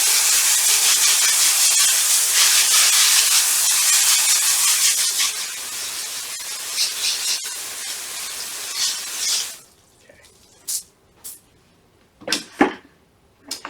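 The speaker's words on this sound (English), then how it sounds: "now this is very dirty, so you really want to rinse that off before you put it back in the bucket" A strong, steady hiss of water spray rinses a dirty wheel-cleaning brush for several seconds, then cuts off, followed by a few short splashes and drips.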